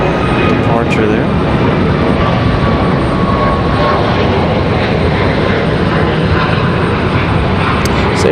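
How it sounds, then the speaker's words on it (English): A Southwest airliner departing Raleigh Durham airport, a loud, steady broadband jet roar filling the whole stretch, with a voice speaking over it. "Still a pretty nice departure there."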